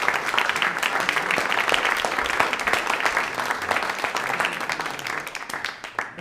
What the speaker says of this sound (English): I think a round of applause and thank you for putting this together.